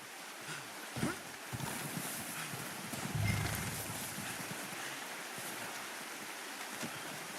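Horse hooves clip-clop in Red Dead Redemption 2, a steady soft rhythm under a broad wash of outdoor ambience, with a brief louder knock near the start.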